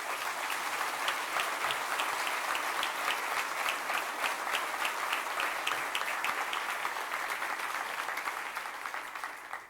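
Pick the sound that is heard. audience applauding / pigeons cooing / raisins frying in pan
audience applauding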